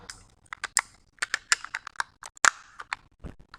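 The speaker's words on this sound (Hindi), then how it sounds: "हमने NH कंप्यूटर्स उसका नेम टाइप किया" A computer keyboard clatters as a vendor name is typed into accounting software, quick irregular bursts of close, crisp key taps with short pauses between them.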